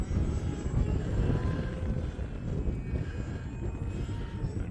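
HobbyZone Aeroscout RC plane flying on a windy winter day, its electric motor droning steadily overhead through gusty wind rumble, with no talking.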